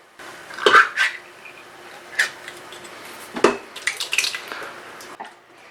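Canned chopped tomatoes being poured into a cooking pot for a vegan root vegetable stew, heard as a few loud, close wet splats and metallic clanks of the can against the pot, with short pauses between them.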